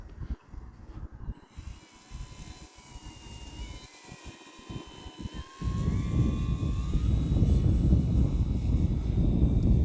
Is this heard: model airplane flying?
yes